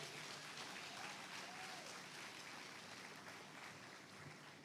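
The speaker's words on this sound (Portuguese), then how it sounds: "Você pode aplaudir o Senhor?" A church congregation applauding during a sermon, a steady, fairly quiet wash of clapping that holds evenly throughout.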